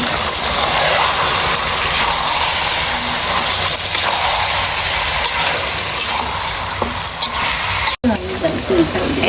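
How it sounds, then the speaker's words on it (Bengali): Meat frying and being stirred in hot oil for a Bengali kosha, a loud, steady sizzle with scraping stir sounds running throughout and a brief break near the end. "তো মাংসটা হচ্ছে কষানো হচ্ছে।"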